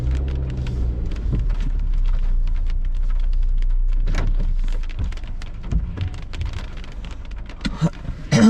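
Rain and hail pour down steadily during a summer thunderstorm, a dense close patter of drops with a low rumble early on and a few sharper impacts toward the end.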